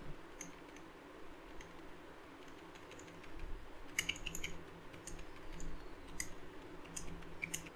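Keys tap on a computer keyboard while text is entered into a Microsoft Word table: quiet, close, irregular clicks that start sparse and then come in quicker bursts.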